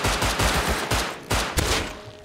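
Rapid automatic gunfire in a shooter video game, a fast rattling string of close, loud shots with a couple of heavier blasts near the end.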